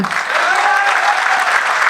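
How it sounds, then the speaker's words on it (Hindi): An audience at a college poetry recital breaks into loud, dense clapping that holds steady, with a faint voice briefly audible under it. "ताली बजाओ इस बात पे।"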